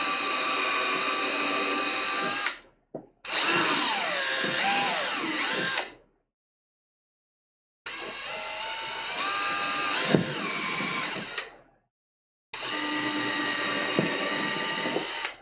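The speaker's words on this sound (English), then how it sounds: "grab your drill, get you a drill bit on there" A power drill whirs in several long bursts with short silent gaps between, its pitch rising and dipping as it bites into leather.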